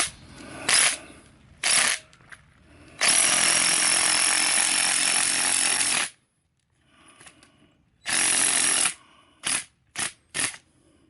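A Dewalt impact driver drives a screw in several bursts. Two short blips lead into a long, loud, rattling three-second run, then another sustained burst and a few quick trailing pulses, with silence between them.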